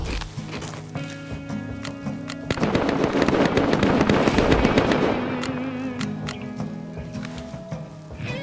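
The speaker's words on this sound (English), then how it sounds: "Oh, it's an AK." AK rifle fire in Rust: a dense flurry of rapid, slightly distant popping shots over a steady background hum, easing off into scattered cracks.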